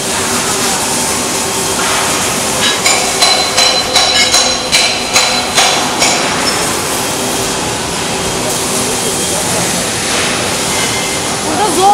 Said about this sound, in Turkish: Burada robot kaynak yapıyor.